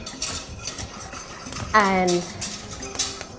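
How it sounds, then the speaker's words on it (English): A metal whisk works flour into milk in a pot on a stove, giving rapid clinking scrapes against the metal. A brief voice and a short tonal sweep break in partway through. "We take the whisk and we're going to whisk in the flour."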